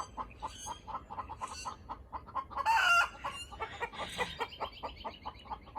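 Chickens cluck in quick repeated bursts close by, and a rooster crows loudly in the middle, with more crowing calls among the clucking.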